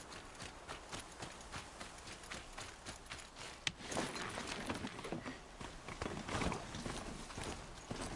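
Quiet, steady clip-clop of horse hooves in the video game Horizon Zero Dawn, a rhythmic trotting patter with faint background ambience.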